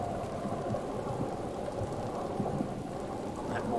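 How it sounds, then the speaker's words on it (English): Rain and rolling thunder in Hyrule in a Zelda video game, a steady soft downpour with a low, continuous rumble underneath, fairly quiet and uninterrupted. "Oh, please stop raining."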